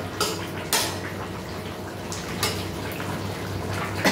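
A spoon stirs pomfret fish curry in a pan after garam masala powder is sprinkled over it, giving a few soft scraping clinks against the metal over a low steady simmer.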